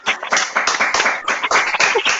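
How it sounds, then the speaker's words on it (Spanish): A small audience at an engineering talk claps for two engineers, with sharp, distinct hand claps rising and falling in uneven bursts, close and fairly loud. "un fuerte aplauso."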